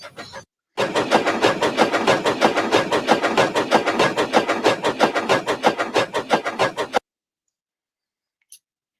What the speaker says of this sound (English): Those are the medium-sized engine puffing sounds